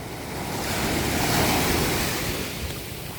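Ocean waves wash onto a beach shore in a steady, broadband surge that swells to a peak midway and then eases back, with some wind rush on the microphone and no voices.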